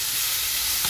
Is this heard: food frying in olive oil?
yes